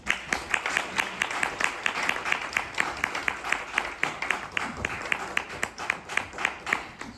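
An audience at a French-language conference applauding the speaker, a sustained round of clapping from a modest crowd with steady individual claps throughout.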